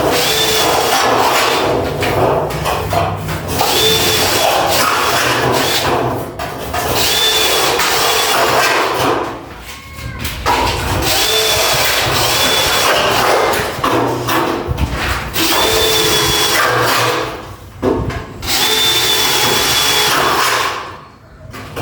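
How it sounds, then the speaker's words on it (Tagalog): A Stanley FatMax drill boring a hole with a drill bit while installing a 798 series aluminum sliding window, heard as several sustained whirring bursts broken by short pauses, loud and close. "Gamit natin itong drill bit na 1 port"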